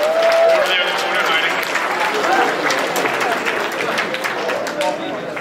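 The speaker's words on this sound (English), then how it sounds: "Just give a big round of applause for our technical department." Audience at an Otakon 2008 anime convention game show applauds the technical department, a sustained wash of clapping from a large crowd with a few voices and cheers mixed in.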